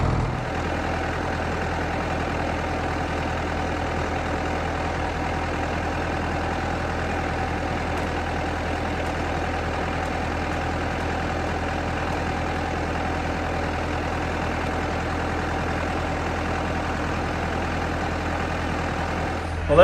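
A forklift engine idles steadily and fairly close, a low constant rumble that holds for the whole stretch while a shed is lowered off a trailer.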